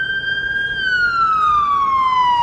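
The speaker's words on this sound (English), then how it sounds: "We got an ambulance going by here." Ambulance siren passing along a Toronto downtown street at night, a loud, close wail that slides steadily downward in pitch as it goes by, with no voices over it.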